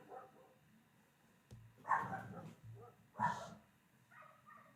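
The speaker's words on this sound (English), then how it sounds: "Apologies for the barking and whining." Dogs outside let out a few loud barks and whines in separate bursts, with quieter whimpers between them, heard from a moderate distance with no talking.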